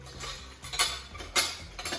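Curry storage bowls unpacked from a parcel sent from India knock and clink together in a few sharp, close clatters, with a soft rustle of handling between them.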